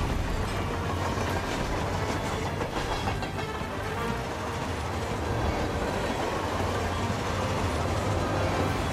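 A fast-moving train in the Carpathian Mountains level of the video game Hitman 3 gives a steady, loud rumbling roll with faint rhythmic rail clatter throughout, no voices.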